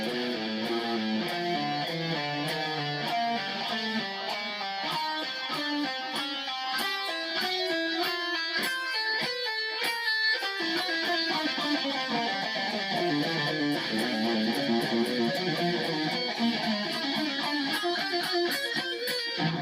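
A chromatic finger warm-up exercise is played on guitar strings as a steady stream of quick single notes climbing and descending in a continuous run, fairly quiet and with no talking.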